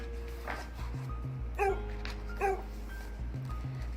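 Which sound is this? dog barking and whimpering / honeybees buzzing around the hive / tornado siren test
dog barking and whimpering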